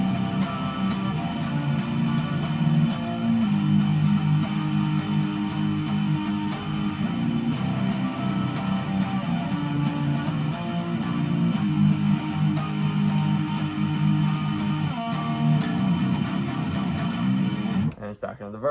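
Distorted electric guitar chugs through a song's chorus, dense sustained power chords played loud and continuous, cutting off abruptly at the end.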